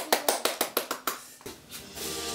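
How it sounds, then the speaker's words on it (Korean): A run of seven crisp, evenly spaced hand claps at a child's Christmas party, close and distinct, followed by a brief noisy shuffle and a soft sustained tone. "자 박수."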